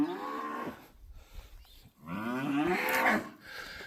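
Cows at a farm during pregnancy testing moo loudly and close by, two long lowing calls with a short pause between them and no talk over them.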